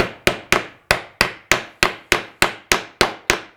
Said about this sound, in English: All you do is insert that hinge where the 2 dowels line up and take a hammer,